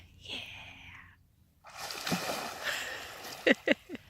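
Someone swimming and playing in open water in Idaho's panhandle makes a steady, wash-like splashing, with a quick cluster of sharper splashes near the end. Faint murmured voices sit in the background.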